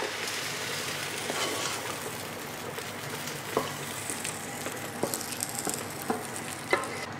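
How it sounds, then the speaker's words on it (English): Okra soup ingredients are mixed and sizzle in a pot, a dense steady frying hiss broken by repeated stirring knocks and scrapes toward the end. "We may now go ahead and mix everything here."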